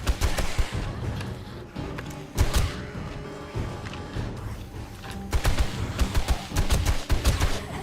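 Gunfire in the survival game 7 Days to Die, a run of loud, close, irregular shots and bursts spread across several seconds with brief gaps between them.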